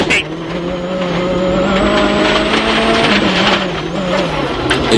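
A rally car crash-damaged on the first special stage of Rally Sardinia 2011 drives on with a sustained, strained engine drone and rising tonal whine, loud and close throughout, with brief scrapes and clicks near the start and end.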